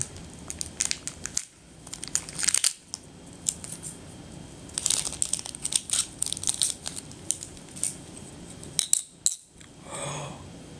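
Plastic Yo-kai Watch blind bag torn open with teeth, giving irregular crinkling and crunching bursts close up, with a few sharper rips and pauses between them, no talking.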